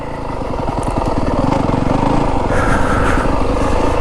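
A 2025 Yamaha WR250F dirt bike engine pulls loud and close on a rough Arizona desert trail, a steady throbbing four-stroke note with rapid pulsing and slight rises and falls in revs throughout.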